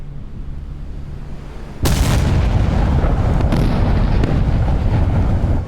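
A sudden heavy boom from Iowa-class battleship 16-inch guns in a naval combat game bursts in after a quieter stretch, followed by a sustained loud rumbling roll of gunfire and distant explosions.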